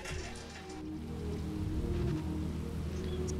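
Steady patter of rain falling in the racing game Forza Horizon 4, a soft continuous hiss with low car engine hum beneath, fairly quiet throughout.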